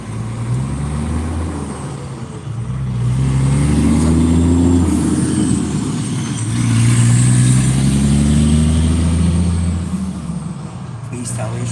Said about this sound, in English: I can barely hear you over the traffic.